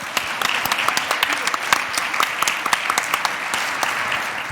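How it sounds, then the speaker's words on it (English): Conference audience applauding, dense steady clapping from many hands in a hall, sustained at an even level throughout. "And maybe a hand of applause also for Henriette."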